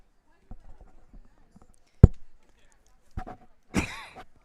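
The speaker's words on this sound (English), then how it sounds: "Sorry for the cough here" A few sharp coughs break up quiet, muffled talk, the last one harsher and more drawn out.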